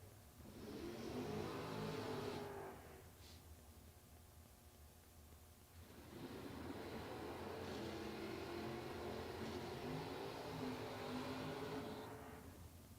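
A Chevelle drag race car revving hard and accelerating in two loud, sustained bursts separated by a quieter lull, with no voices over it.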